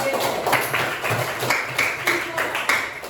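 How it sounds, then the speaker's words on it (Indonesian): Classroom students clapping for a group during a mathematics lesson, uneven rhythmic claps with some voices mixed in, moderately loud and close. "Tepuk tangan dulu untuk kelompoknya."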